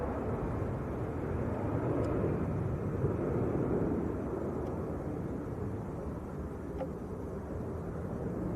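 An airliner lands at Leeds Bradford Airport, heard as a continuous low, distant engine roar and rumble in breezy outdoor air, steady throughout with no talking.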